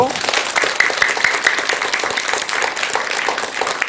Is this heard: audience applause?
yes